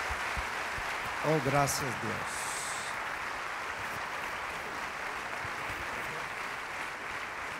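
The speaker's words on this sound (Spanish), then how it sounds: "con un fuerte aplauso" Church congregation applauding: a steady wash of clapping from a crowd throughout, with someone speaking briefly over it early on.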